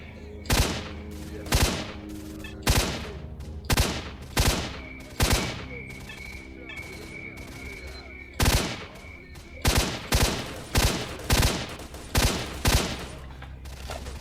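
Gunfire in S.T.A.L.K.E.R.: Shadow of Chernobyl: loud, sharp shots fired in short bursts and single cracks, about a dozen across the span, with a pause in the middle and a faint steady tone behind them.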